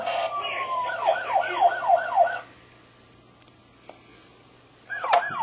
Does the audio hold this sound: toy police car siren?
yes